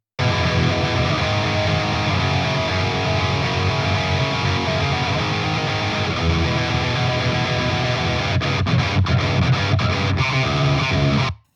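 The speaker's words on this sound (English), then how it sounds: "It's a ridiculous sounding amp for tight, huge metal tones" Heavily distorted electric guitar, reamped through Helix Native, plays a thick, chugging metal riff, loud and dense with deep low end throughout.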